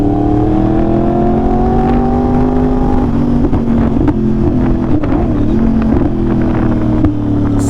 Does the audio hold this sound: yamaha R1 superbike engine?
yes